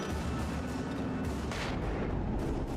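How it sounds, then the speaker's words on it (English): Flashbang grenade blasts in the Alan Wake video game on Xbox 360, heavy booming bursts one after another, loud and close, with a sharp bright burst near the middle. "Flashbang. Flashbang."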